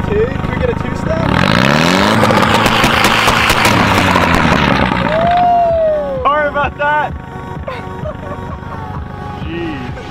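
An Audi TT race car engine revs hard for a two-step launch control, a loud sustained snarl with rising and falling pitch sweeps, then eases into choppier bursts as the revs drop.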